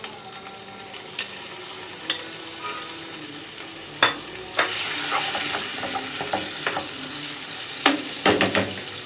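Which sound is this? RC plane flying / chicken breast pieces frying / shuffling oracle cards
chicken breast pieces frying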